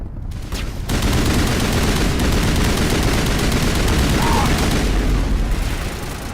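A rocket blast and gunfire roar through a 2007 space RPG video game, with a sharp loud onset followed by sustained, dense rumbling fire and explosions, and speech faintly mixed in.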